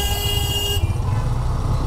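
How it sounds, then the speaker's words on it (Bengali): A vehicle horn toots in Bangladeshi road traffic while a Hero Extreme 125 motorcycle rides along, a short sustained honk at the start over steady engine and road rumble. "উনি মনে হয় একটু হর্ন দিয়েই চালায়।"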